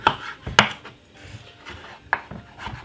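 A kitchen knife chops cucumber on a board in a few sharp, separate strikes with short pauses between them, close and clear, with no talking.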